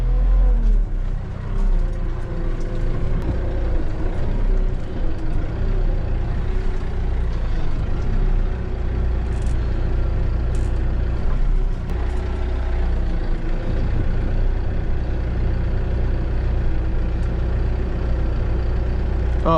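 Farm tractor driving over dirt to compact it, a steady, loud low engine drone with a rough mechanical rumble that holds throughout, without voices.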